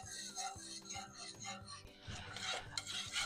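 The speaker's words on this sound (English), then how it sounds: "So I'm going to just keep stirring this." A spoon scrapes and rubs through thick polenta in a pot, with irregular soft rasping strokes close by and no talking.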